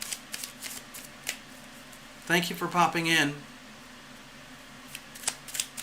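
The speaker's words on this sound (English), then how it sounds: "I'm just shuffling up the cards here." Tarot cards being shuffled by hand, soft papery riffles and taps close by before and after a brief spoken greeting.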